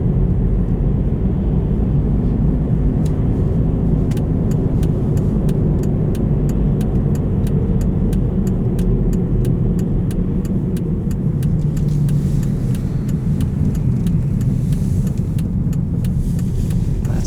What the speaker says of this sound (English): driving on studded tires, I could see it being very easy to fall asleep. Because this produces just a nice hum.